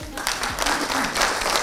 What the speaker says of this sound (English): Can we applaud her?